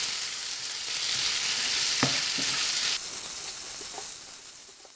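Turmeric powder being stirred into frying masala for a paneer sabzi, a loud, steady sizzling hiss with a couple of spoon taps, close and without talk.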